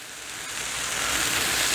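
Butter sizzling on a Blackstone griddle during a BBQ smashburger cook, a short, close, steady hiss that swells slightly as it goes, with no voices.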